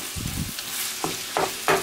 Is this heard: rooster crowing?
no